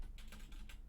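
A handful of quick, faint keystrokes on a computer keyboard while entering text into a spreadsheet, soft and close with no talking.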